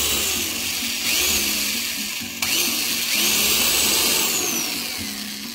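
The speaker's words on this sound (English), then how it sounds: "Don't wanna take too much of your time for listening to the drill go" A power drill whirs loudly and close, its motor pitch rising and falling in repeated bursts with brief changes in load.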